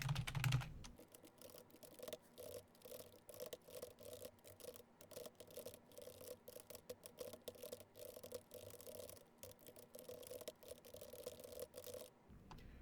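Fingers tapping out quick, uneven bursts of keystrokes on a computer keyboard, close and fairly quiet, with short pauses between runs of clicks.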